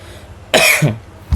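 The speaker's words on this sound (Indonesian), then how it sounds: "Sorry guys, agak batuk dikit nih." A sharp, close cough bursts out, followed by a shorter second cough moments later.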